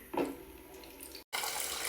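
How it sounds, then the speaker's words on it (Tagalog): Water pours from a tap into a pitcher, a close, steady splashing rush that briefly cuts out and then resumes. "maglagay tayo ng tubig sa isang pitcher"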